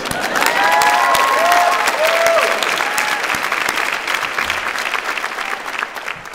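At a law school commencement, a large crowd applauds the graduating LL.M class with loud, sustained clapping and a few scattered cheers and whistles, gradually tapering off.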